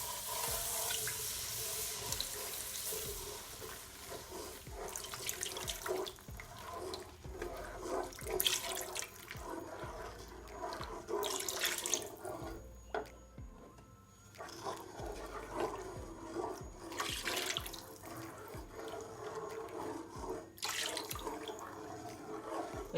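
Water runs and splashes into a bowl and gets stirred together for a smothered turkey wing gravy, a steady close pour-and-swish sound with a brief quieter gap midway.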